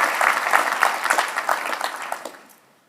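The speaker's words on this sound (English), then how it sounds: "please, a round of applause for Ambassador Hoekstra." Audience applause for U.S. Ambassador Pete Hoekstra at a Canada-U.S. relations address, a dense burst of clapping from a large crowd that holds steady, then tapers and fades out near the end.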